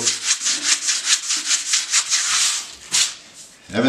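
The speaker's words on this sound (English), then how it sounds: "when you're finished sanding, just push it down to get rid of the dust" A sand pad scrapes back and forth across a filled wall in rapid rhythmic strokes, loud and close, slowing near the end with a final firmer swipe and a soft knock.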